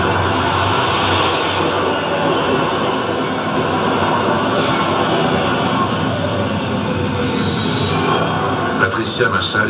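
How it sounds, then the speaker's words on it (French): Subway train rumbling through Fulton Street metro station in Manhattan, a steady, loud, dense roar filling the whole stretch with faint rattles near the end. "Patricia Massali arrive à la station de métro Fulton Street, à Manhattan."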